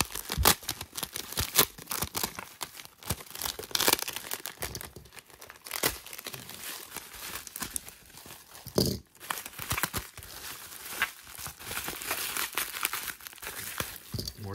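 Tape and bubble wrap packaging on a 2020 Rookies & Stars hanger box being pulled off: close, continuous crinkling and crumpling with sharp tearing bursts, no talking.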